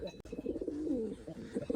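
Pigeons coo softly nearby in low, throaty rolling calls that overlap with one another.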